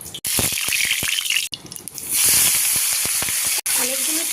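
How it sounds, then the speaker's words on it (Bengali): Prawns rubbed with salt and turmeric fry lightly in hot oil for a prawn malai curry, giving a close, steady sizzling hiss. Occasional clatter and brief breaks interrupt the sizzle. "এবার এটা হালকা করে ভেজে নেব।"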